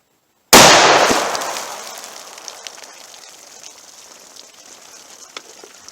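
A single sharp, loud .357 Magnum gunshot from a Speer Gold Dot load fired into a row of water jugs, a sudden crack followed by a long decaying echo and faint scattered pops, with no talking.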